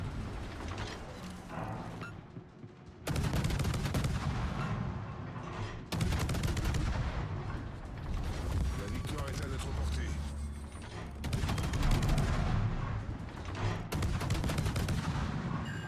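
Naval guns in World of Warships fire in repeated heavy booms, each salvo cutting in sharply with a loud crack and rumbling tail, with someone talking over the gameplay between shots.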